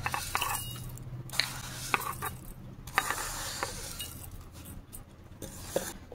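Cooled raw rice is poured into a mixer grinder jar, giving a soft, gritty rattling rush of grains with scattered light clinks against the jar, fairly quiet and without any talking.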